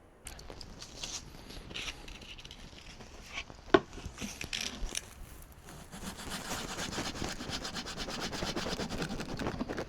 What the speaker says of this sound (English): Sanding all of these pocket holes was a real pain in the butt.